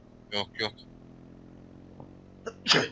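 A sneeze in the video game H1Z1 Battle Royale, a short sharp burst near the end, preceded by brief voiced sounds from a nearby speaker amid low background hum.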